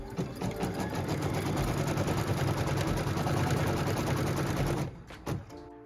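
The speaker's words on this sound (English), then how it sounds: "So we'll put our piece number 8 on and we're ready to stitch it." A domestic sewing machine stitches a quilt block's tack down line in one steady, loud, rapid run of needle strokes, then stops abruptly near the end, followed by a couple of brief handling clunks.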